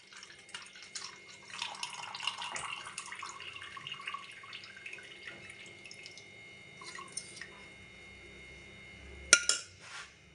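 Cooled tea water is poured into a glass, a soft, trickling stream with light splashing for several seconds that tapers into scattered drips, followed by a sharp clink of the glass near the end.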